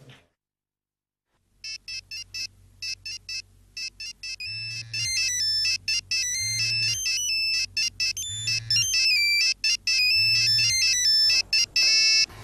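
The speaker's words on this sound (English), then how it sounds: "Sir, the phone is ringing from one of the rooms." A telephone rings from another room with a repeating electronic ringtone: bright trilling bursts that grow steadier and louder, with a low pulsing tone underneath, after a brief quiet opening. No one speaks.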